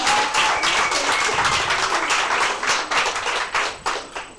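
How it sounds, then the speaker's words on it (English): Audience at a business workshop in Kanyamazane, Mpumalanga giving a round of applause: a steady, moderately loud clatter of many hands with some sharper individual claps standing out toward the end. "One more time, a round of applause for Mbaula Chat."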